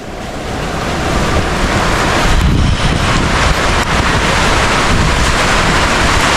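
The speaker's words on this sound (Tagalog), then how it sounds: "ang lakas na ng ulan" Heavy rain and strong wind lash a seaside shore during Typhoon Paolo, a loud, continuous roaring wash with gusts buffeting the microphone and surf-like surges, no voices audible.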